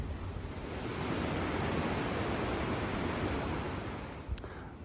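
Ocean waves below a cruise ship balcony on a voyage to Alaska, a broad steady rushing wash that swells slightly and fades, with wind buffeting and a brief click near the end.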